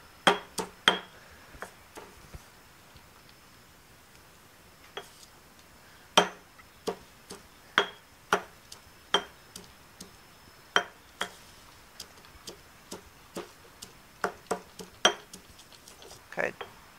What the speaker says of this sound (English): It's just a mortar and pestle. We're gonna break the garlic up roughly.